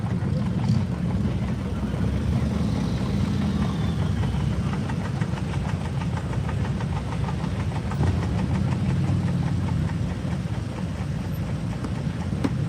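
An antique tractor engine runs steadily at an Ohio antique tractor pull, a continuous loud chugging rumble with a rapid knocking pulse, mixed with outdoor crowd noise and occasional voices.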